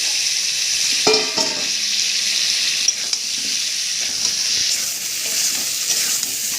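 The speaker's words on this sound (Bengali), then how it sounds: "জিরে বাটা দিয়ে দিলাম। ভেজে রাখা আলুগুলো দিয়ে দিলাম।" Cumin paste and previously fried potatoes sizzle and crackle steadily in a hot pan, with a few louder spatters and scrapes of stirring near the start, close and alone with no talking.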